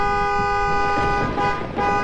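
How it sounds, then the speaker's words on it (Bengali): A car horn sounds just outside a house in one sustained, loud, bright tone lasting about two seconds, with faint traffic rumble underneath. "এটা গাড়ির আওয়াজ ছিল না?"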